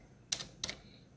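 A couple of quick keystrokes on a computer keyboard, two short clicky bursts close together, near and fairly quiet, with no talking.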